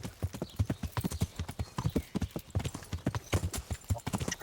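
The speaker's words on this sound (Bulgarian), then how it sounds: "но поне можем да се качим върху коня" A horse ridden in the medieval game Kingdom Come: Deliverance clip-clops along at a steady, quick gait, its close, crisp hoofbeats making an even rhythm with nothing else over them.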